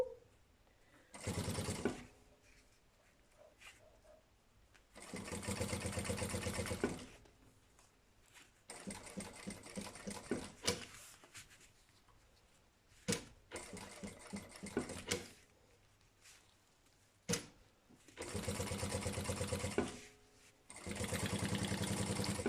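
A sewing machine stitches piping onto a fabric lunch bag at a medium stitch length, running in several loud, steady bursts separated by short pauses, with no talking.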